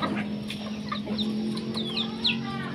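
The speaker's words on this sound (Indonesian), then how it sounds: "di kandang yang ini ada yang ada isinya si ayam kate" Bantam chickens in a coop cluck and chatter close by, with repeated short clucks over a steady barnyard background.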